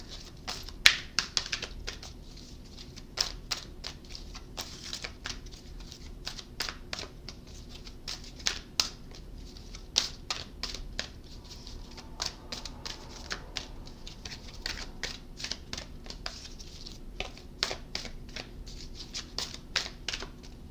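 Tarot cards are shuffled over and over, producing quick, crisp riffling snaps and light patter, fairly quiet and close.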